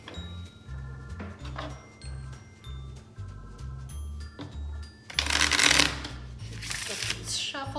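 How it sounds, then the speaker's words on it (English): A deck of playing cards is shuffled during a game of cribbage. Soft rhythmic riffles and taps lead up to a louder burst of riffling, then a short bridge flutter, with a voice talking underneath. "the cards have loosened up. I'm getting a nice arch when I shuffle"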